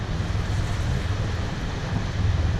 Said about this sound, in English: It's windy in here today.